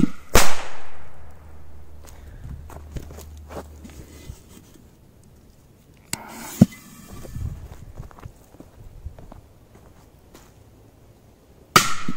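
Big firecrackers go off beneath an old cooking pot outdoors, giving three sharp, loud bangs spaced several seconds apart, each followed by a quiet stretch with faint rustling.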